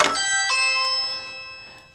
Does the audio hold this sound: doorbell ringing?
yes